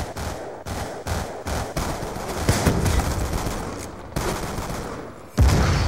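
Shotgun fire in the video game Black Ops 2: a rapid run of loud, close blasts at a fairly even pace, then a pause and a final heavy shot, with no talking.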